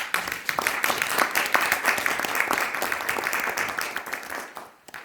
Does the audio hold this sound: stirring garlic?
no